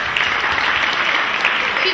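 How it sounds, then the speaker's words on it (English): A crowd at a family celebration gives the catering manager a round of applause, dense steady clapping filling the room, with voices mixed into it. "I just want to give her a round of applause"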